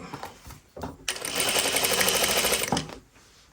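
A domestic sewing machine stitches a Francesca blouse in one steady run of about two seconds, a fast close mechanical whirr with rapid needle clatter, stopping abruptly.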